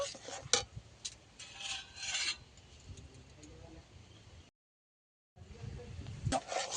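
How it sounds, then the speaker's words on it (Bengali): A spoon stirs a hot mango frooti mixture in a pot to cool it, giving faint, irregular scraping and rubbing strokes with a few sharper knocks, broken by a short silent gap. "এবার এটাকে অনবরত নেড়ে চেড়ে ঠান্ডা করে নেব।"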